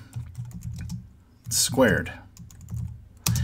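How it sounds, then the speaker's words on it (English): Typing on a computer keyboard, with a run of light, rapid key clicks close by, briefly interrupted by a spoken word before the tapping resumes. "As I'm typing, I need"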